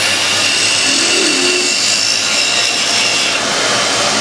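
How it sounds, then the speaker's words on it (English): A steady, loud whirring and scraping of a wood lathe as a spindle gouge drills a hole down the centre of spinning wood, continuous and close. "I normally start with the spindle gouge just to sort of drill a hole down the centre."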